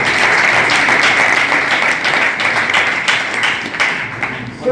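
Loud, dense audience applause at a Hindi poetry recital in a yoga ashram, a continuous roar of many clapping hands that holds steady and then tapers slightly toward the end.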